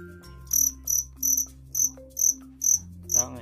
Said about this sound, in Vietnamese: Đó là con dế của mình nè